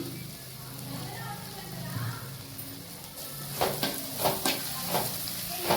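Potatoes fry in a pan with salt, turmeric and chili powder, giving a steady close sizzle. In the second half, a utensil stirs and scrapes against the pan several times.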